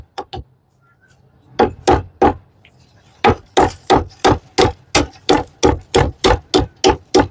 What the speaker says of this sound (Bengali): আমি কিন্তু যেই ছেচুনি যা দিয়ে ওষুধ গুঁড়ো করতেছি খুব সহজেই কিন্তু এটা গুঁড়ো করা যায়